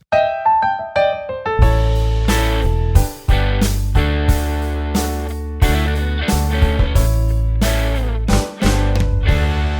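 A short bright musical jingle plays, opening with a few plucked notes, then full band chords with strong bass hits in a punchy, upbeat rhythm.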